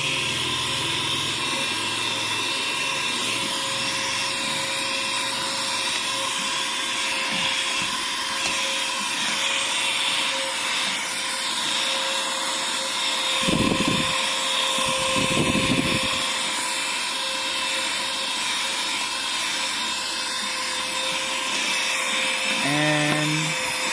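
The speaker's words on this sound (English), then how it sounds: "So like this, you press on and you can vacuum like this." A 120-watt HL-107 cordless vacuum cleaner runs continuously while picking up dirt, a steady high whine with a sustained motor tone and brief deeper surges partway through, close by with no talking.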